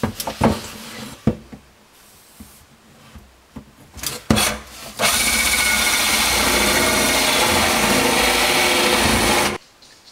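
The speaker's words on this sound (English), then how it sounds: "I'm going to drill from the inside of the cabinet" A few scattered knocks and clicks, then a loud, steady grinding whir of a power drill boring through cabinet wood from inside for several seconds before stopping abruptly.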